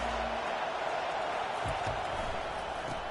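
A large stadium crowd at a college football game between Kings and Notre Dame makes a constant, dense roar with no clear breaks, heard from within the stands.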